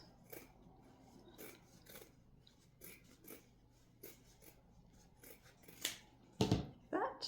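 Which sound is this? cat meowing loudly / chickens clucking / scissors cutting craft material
scissors cutting craft material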